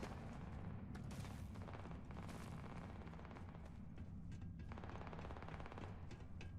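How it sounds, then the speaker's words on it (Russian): An enemy creature in Starfield fires rapid, turret-like bursts of shots, a dense and continuous rattling barrage that stays loud throughout with no talking. "Я подумал, это турель, она так стреляет, но это все же какой-то враг оказался, ну, биологического происхождения."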